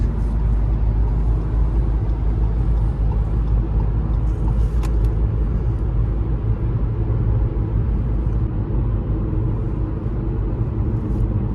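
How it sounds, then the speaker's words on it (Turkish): Fiat Egea Cross car cruising at about 90 km/h on adaptive cruise control with lane keeping, heard from inside the cabin as a steady, loud low road and engine rumble that runs without pause. "şu an şerit takipte adaptif kruz kontrolde gidiyorum"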